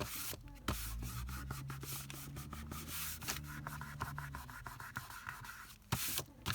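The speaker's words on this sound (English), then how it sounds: "oops, just gonna rub that glue off." Excess Fabri-Tac craft glue being rubbed off a paper ring journal envelope pocket, a steady close scratchy rubbing that runs continuously with quick repeated strokes and a few brief pauses.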